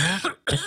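Two sharp coughs land close into the microphone, loud and harsh, separated by a brief silent gap.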